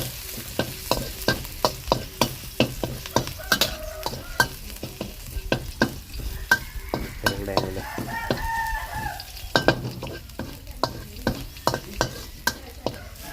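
Garlic frying in oil in a wok, a bright sizzle broken by rapid rhythmic clanks of a spatula scraping the metal, close and lively, with faint background noise and no talk.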